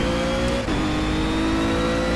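Ginetta GT4 race car in Project CARS at the Zhuhai circuit, a loud steady engine drone that drops sharply in pitch during a downshift, then holds a lower whine.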